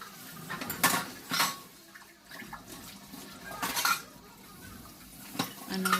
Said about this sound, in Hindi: उसके बाद मैं बर्तन साफ़ कर रही थी